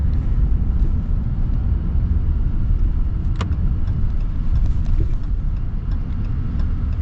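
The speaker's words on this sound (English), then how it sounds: "I do like the sound of the Cummins though" Cummins diesel engine of a 2024 Ram 3500 Laramie Night Edition, a steady low rumbling drone heard from inside the truck while driving, with a brief sharp tick partway through and no talking.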